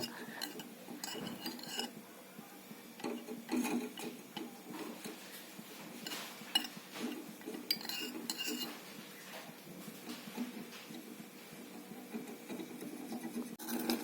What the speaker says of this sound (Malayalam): എന്നിട്ട് ഒന്ന് നന്നായിട്ടൊന്ന് ഇളക്കി കൊടുക്കുക